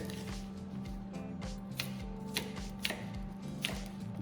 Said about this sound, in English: I'm going to prepare the onion. I'm just going to dice that up.